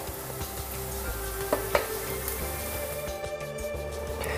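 Salted egg scrambling in a pan, a steady close sizzle under a hum, with a couple of brief spatula taps and scrapes partway through.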